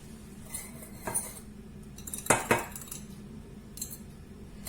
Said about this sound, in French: Je mélange tout bien comme il faut.